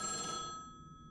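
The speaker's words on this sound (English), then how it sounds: "It's ringing." Electronic phone ring in an Indonesian horror-style video game, a bright sustained bell tone that fades out within half a second into near silence.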